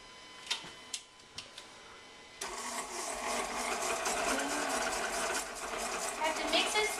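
An electric mixer blends chocolate chess pie batter, starting after a few light clicks and then running as a steady, fairly loud whir with a busy rattling texture that holds to the end.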